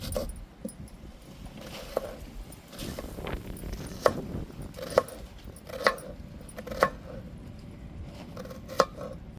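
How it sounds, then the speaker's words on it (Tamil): A knife taps against a cutting board in sharp, spaced chops as an onion is finely chopped, with faint scraping and kitchen clatter in between. "இப்போ வெங்காயத்தை கட் பண்ணிக்கிடுவோம் பொடிசு பொடிசாக"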